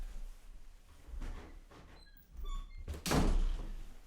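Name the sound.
door being closed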